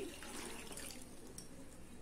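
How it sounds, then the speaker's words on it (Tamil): Water from a glass is poured onto jaggery in a pan while making aval paruppu payasam, a soft, steady rushing and splashing heard close and quiet, continuous throughout with no voices. "ஒரு கிளாஸ் அளவுக்கு தண்ணி ஊற்றி"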